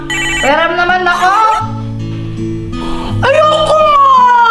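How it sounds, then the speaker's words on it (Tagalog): A toy cellphone plays a loud, tuneful electronic ringtone melody up close, with children's voices talking over it. "Uy, Joanna, ganda ng laruan mong cellphone na."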